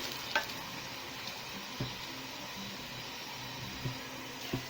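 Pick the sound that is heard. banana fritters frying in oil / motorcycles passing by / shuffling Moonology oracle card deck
banana fritters frying in oil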